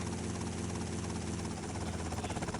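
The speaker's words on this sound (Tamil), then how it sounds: "ஹெலிகாப்டர் வந்துருச்சு போல். இன்னும் சத்தம் கேட்குது." A helicopter approaching in GTA Vice City gives a steady, fairly faint chopping drone with a low engine rumble, the rotor pulse growing more distinct toward the end, with no voices.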